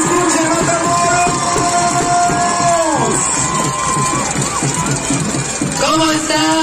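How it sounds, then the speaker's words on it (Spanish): A large crowd at a political rally in Matamoros, Tamaulipas cheers loudly and continuously, with shouts and whoops rising over a dense roar of voices. "El aplauso fuerte para ella, que se escuche en Matamoros."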